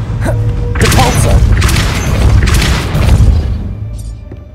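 Depulso spell cast in the video game Hogwarts Legacy, a loud booming blast with a heavy whooshing burst, followed by a second surge that fades out.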